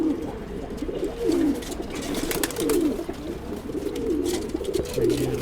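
Pigeons kept by a breeder coo in a loft, with several rolling, repeated coos at a steady pace over a constant background hum, close by and moderately loud.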